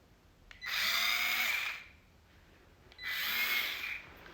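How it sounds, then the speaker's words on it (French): An electric screwdriver spins up in two short whirring bursts, each about a second long with a quiet pause between, close by and fairly soft, with no talking. "c'est un tournevis en fait électrique"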